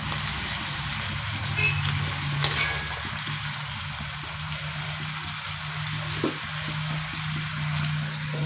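Mutton sizzles steadily in a hot pan with a continuous loud frying hiss, broken by occasional scraping stirs and a sharper clink, close up with no talking.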